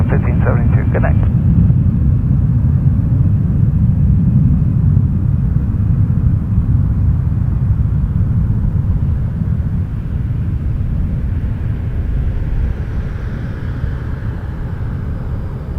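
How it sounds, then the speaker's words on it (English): A Boeing 737 MAX 8 airliner of a Dominican carrier lines up on the runway at Toronto Pearson Airport at night, giving a loud steady engine rumble and roar that holds throughout. "Dominicans lining up to Santo Domingo, 737 MAX 8."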